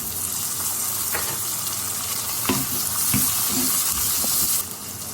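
Tomatoes hit a hot pan of softened onions for a restaurant-style Tamil ayilai fish curry, giving a busy hiss and sizzle with scattered stirring clicks, close and fairly loud, easing off just before the end.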